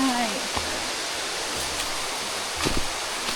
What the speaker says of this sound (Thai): เราก็มาถึงจุดหมายของเราแล้วคือน้ำตกตาดหมอก